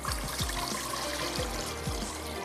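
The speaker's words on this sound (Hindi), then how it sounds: "यहाँ से ले लेते हैं एक अदद सॉस पैन और पानी रख देते हैं उबलने के लिए" Water poured into a saucepan to be set on to boil, a close, steady splashing trickle with a few hollow gulps and thuds against the metal, heard alone.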